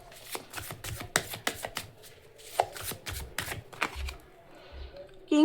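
Tarot cards are shuffled close by, with a rapid series of sharp riffling snaps and taps that come in uneven bursts. Some faint handling noise accompanies the shuffling.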